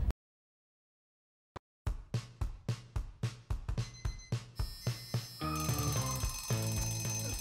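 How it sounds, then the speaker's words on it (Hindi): An alarm clock rings after a short silence, first in a run of sharp rhythmic beeping bursts and then as a loud continuous electronic ringing tone that fills the room. "अलार्म बंद करना यार।"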